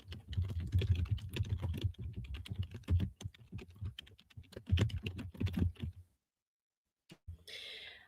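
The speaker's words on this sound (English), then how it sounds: "Hang on, I'm going to do some clickety clack." Quick, close clicking on a computer keyboard comes in rapid bursts with brief pauses, then stops for about a second before a last short rustle.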